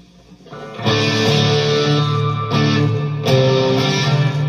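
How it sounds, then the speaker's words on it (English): Distorted electric guitar chords through a Fender Mustang Micro ring out with a reverb tail, two sustained strums after a quiet start. "different reverb."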